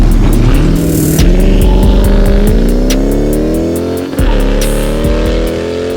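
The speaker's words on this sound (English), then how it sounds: "This is my Dodge Charger Scat Pack wide body. It's big, it's loud" A Dodge Charger Scat Pack wide body engine revs loud and close, its deep throaty note climbing steadily in pitch, dipping briefly, then rising again.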